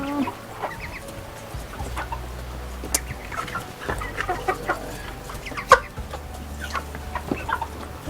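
Backyard meat chickens cluck and murmur close by in a steady, overlapping flock chatter, with sharper squawks scattered throughout and no talk.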